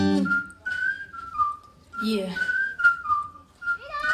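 Shrill whistles from an audience at a dance competition ring out in bursts, several overlapping, with a brief spoken word among them.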